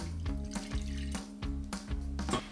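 Water, milk and butter are poured into a pan, giving repeated splashing, tap-like bursts of liquid with short pauses between pours, close and fairly quiet, no voices.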